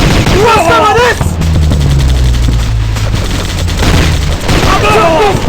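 Rapid bursts of gunfire ring out while shooting at enemies in a battle, loud and continuous across the stretch, with shouting voices at the start and end and a low rumbling drone underneath.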